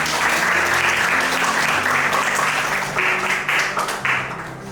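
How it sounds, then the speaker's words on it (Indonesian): A classroom full of people claps steadily for several seconds, a dense patter of hands that tapers off toward the end. "tepuk tangan dulu dong"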